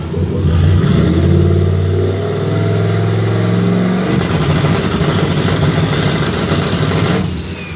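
Loud VK56 engine with an 8082 turbo held at high revs on a two-step launch control, harsh popping and crackling, pitch shifting, then a sharper crackling burst before it cuts off.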